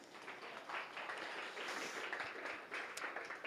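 Wedding guests applaud the couple at a stand-up comedy set, a faint, steady wash of scattered clapping from a crowd that swells slightly in the middle and continues throughout.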